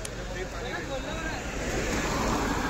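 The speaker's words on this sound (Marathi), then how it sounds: "इथे पाऊस पडला आहे जोरात" Heavy rain pours in a dense, continuous roar close by under a shelter along a pilgrimage walk route, with wind-like hiss and a faint voice.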